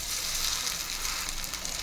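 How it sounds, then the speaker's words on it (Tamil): Steady, close sizzling of fish chops frying on a hot dosa griddle, a continuous crackling hiss with no talking. "இப்போ வந்து சாப்ஸை எடுத்து தோசைக்கல்லில் போட்டுக்கலாம்"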